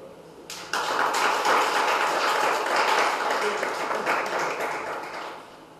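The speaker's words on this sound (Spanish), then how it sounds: "Denle palmas." A church congregation bursts into hand clapping that holds for several seconds, loud and dense, with a few sharp taps and some mixed voices underneath.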